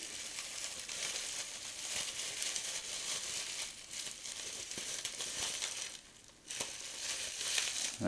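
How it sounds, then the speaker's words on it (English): Tape peeled and torn from a mailed package holding a chrome-finish lighter, continuous close crinkling and ripping noise with a brief quieter pause before the tearing resumes, no speech. "Now we will see if we can remove the tape and get this"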